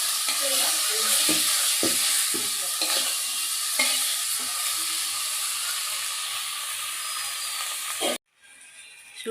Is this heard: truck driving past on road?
no